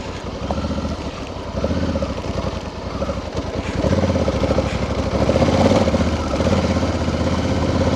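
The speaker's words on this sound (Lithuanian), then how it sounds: "Kažkoks traktorius." A tractor engine rumbles close by on an Italian mountain gravel road near Colle delle Finestre, a loud low throbbing drone that grows slightly stronger as it passes.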